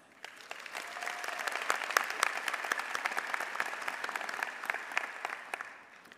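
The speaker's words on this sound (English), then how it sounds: "please give yourselves a round of applause" Graduates applaud at a spring commencement ceremony, a steady, fairly distant round of many hands clapping that swells in, holds for several seconds, then fades with no talking.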